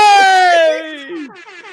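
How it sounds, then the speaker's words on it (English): A loud, blaring air horn blast with a steady harmonic tone that sags in pitch, trailing off into a lower, wavering honk. "give yourself the rap air horn."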